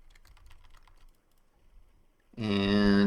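Soft, quick keystrokes patter on a computer keyboard for about a second. After a short pause, a loud, sustained voice-like tone cuts in.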